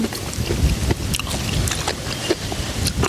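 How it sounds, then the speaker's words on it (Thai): Gusting wind buffets the microphone with a rough, continuous rumble, broken by scattered knocks and splashy noises, and no one speaks. "เสียงลม"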